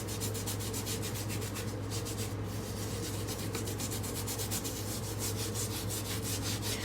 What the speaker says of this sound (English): You might just have to scrub a little longer, but it really is whitening.